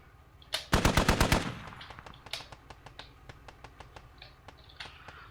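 A Humvee gunner in a video game fires through a wall: a loud rapid burst of machine-gun fire, then a steady run of quieter, evenly spaced shots continuing to the end.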